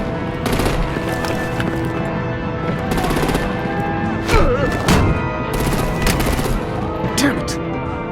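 Artillery gunfire rattles in Batman: The Enemy Within, rapid bursts of shots and thumping impacts repeating loudly through a dense action soundtrack, with voices heard in the mix.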